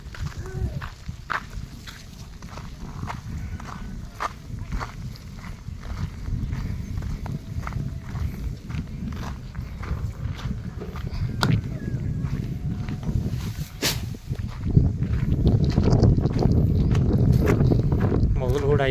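Buffalo hooves clop on the ground in an irregular walking rhythm close by, mixed with outdoor rustle and wind while people talk intermittently.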